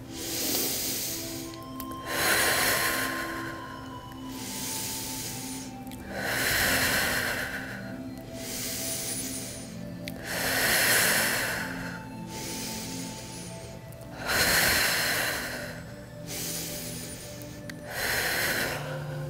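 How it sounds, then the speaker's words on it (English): Slow, deep yoga breathing, long airy inhales and exhales repeating in a steady rhythm about every four seconds, close and breathy over a soft background hum, no talking. "And then you're gonna breathe in"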